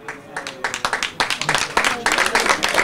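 A stadium crowd at the 2016 Nereo Rocco final between Bologna and Sturm Graz applauds as Bologna's number 9 is substituted. Dense clapping swells and stays loud, with a commentator's voice faintly underneath.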